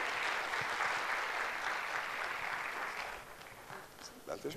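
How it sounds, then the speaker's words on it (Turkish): Audience applause at a media summit as a guest is invited on stage, a full round of clapping that gradually thins and fades over several seconds while a voice speaks near the end. "Alkışlarınızla."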